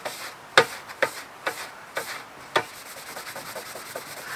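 A cloth rubs finish into a vintage hand saw plate, back and forth against the sanding grain in short, rhythmic strokes, each a soft swishing scrape with brief pauses between, close and fairly quiet.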